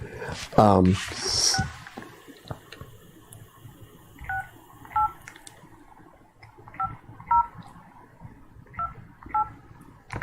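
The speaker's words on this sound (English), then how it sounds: "let me dial again" Telephone keypad DTMF tones as a number is redialed during a call-in radio show, short paired beeps in quick groups of two and three, fairly clear over faint background noise after a brief louder burst at the start.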